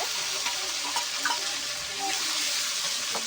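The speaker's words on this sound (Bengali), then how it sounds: "এবার এখানে আমি বেটে রাখা সেই মশলাটা ঢেলে দেবো দিয়ে মশলাটা একটু কষাই নেবো" Ground spice paste fries in a pan with fried onions as it is stirred, a continuous soft sizzle with scraping stir sounds close by.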